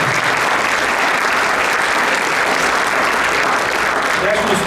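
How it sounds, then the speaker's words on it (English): At a Derby inauguration ceremony, an audience gives loud, continuous applause for distinguished guests. The clapping forms a thick, unbroken wash at even strength from start to finish. "How about a nice round of applause for our distinguished guests here today?"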